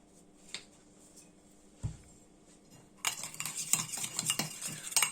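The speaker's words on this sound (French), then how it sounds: "On mélange déjà." A spoon clinks sparsely against a dish before stirring balsamic vinegar in it turns into a busy run of scraping and tapping over the last two seconds.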